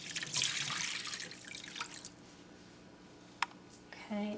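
Two cups of liquid poured into a pan for chicken Marsala make a close splashing, trickling rush for the first couple of seconds, then fade to quiet drips and a faint clink.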